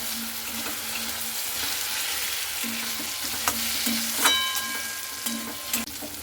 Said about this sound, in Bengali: এরপরে আলু ভেজে রাখাটার সঙ্গে খুব ভালো করে এখানে আমি মশলাটা কষতে নিচ্ছি।